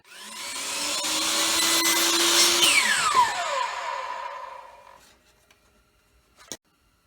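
A miter saw cuts a 45-degree bevel in a board for a DIY garage water dam, its motor whining up loud and steady for about three seconds, then winding down as the blade slows, followed by a short clack.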